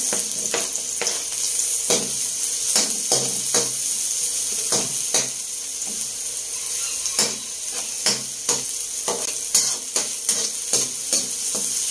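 Garlic and onion sizzle steadily in a pan for pork estofado while a utensil stirs them, giving sharp, close scrapes and clinks at irregular intervals over the continuous frying hiss.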